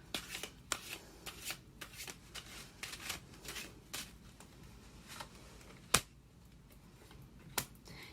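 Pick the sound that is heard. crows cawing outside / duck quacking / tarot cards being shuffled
tarot cards being shuffled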